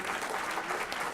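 Audience applause at a board meeting, a dense, even patter of many hands clapping at once, sustained and fairly close for the whole brief moment.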